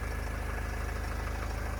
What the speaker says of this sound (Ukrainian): От ми чуємо, як працює Євро 4 мотор.